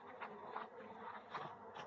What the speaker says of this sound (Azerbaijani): Hava normal olduqda arılar keçib buradan balı öz tərəflərinə daşıyırlar.